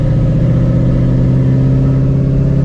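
Procharged 2V Ford Mustang GT V8 engine droning steadily while driving, a loud, continuous low rumble with no break and no voices over it.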